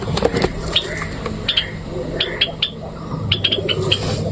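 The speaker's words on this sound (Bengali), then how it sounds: "আর এদিকে এই যে বড় বড় কবুতরগুলো যাচ্ছে, সব তো উড়াউড়ি করতেছে" Pigeons at a loft, with repeated short chirps and coos and brief flutters scattered over steady background noise, fairly close and moderately loud.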